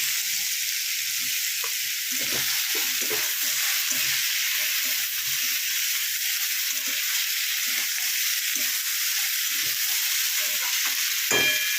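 Pumpkin cooking with methi in a pan gives a steady, bright sizzle of frying, broken by repeated soft scrapes and knocks of a spatula stirring at irregular intervals, close and continuous.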